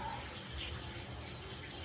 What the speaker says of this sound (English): running water like this for at least 5 minutes, it is kind of a lot